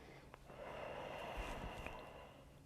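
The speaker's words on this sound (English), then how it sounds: "just take some nice deep breaths" A slow, deep breath during a gentle yoga practice, a soft, close inhale and exhale heard alone at low volume with a faint sniff near the start.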